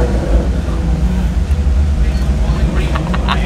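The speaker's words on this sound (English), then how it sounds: "this thing is rocking a naturally aspirated V8 pushing out 460 horsepower" Maserati Levante Trofeo with a naturally aspirated V8 making 460 horsepower, climbing the Festival of Speed hill, gives a loud, dense engine roar heard from inside the cabin that stays continuous and heavy throughout.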